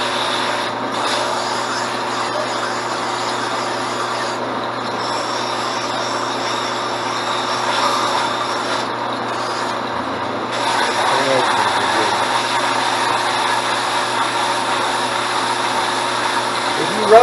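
A belt sander runs continuously while smoothing wooden spoons, a steady loud motor whir with an abrasive rasp that deepens and grows slightly louder partway through as the wood is pressed to the belt.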